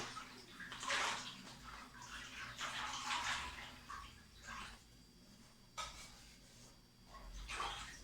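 Coffee is stirred into a fermented fruit juice mixture for plant fertilizer, giving soft, sloshing swirls of liquid in repeated waves, close by and fairly quiet, with no voices.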